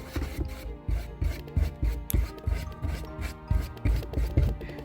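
Paintbrush applying white paint to a brown cardboard box, close rhythmic scrubbing strokes repeating steadily, no one speaking.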